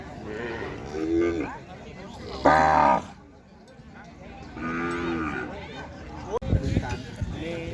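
Cattle at a rural cattle market moo in several loud, drawn-out calls, near and far, amid crowd chatter and background market noise.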